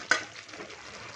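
Fried eggplant added to a hot pan for an aloo-baingan dish, a brief sharp hit followed by a soft, quiet sizzle.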